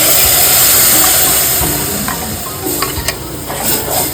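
Ground masala paste for a Konkani sardine fish curry sizzles steadily in a frying pan over onions, with scraping stir strokes and small clinks near the end, loud and close with no talking.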